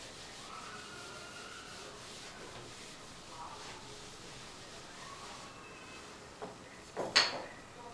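Writing being rubbed off a board, a soft faint scraping that swells into a few louder rubbing strokes near the end.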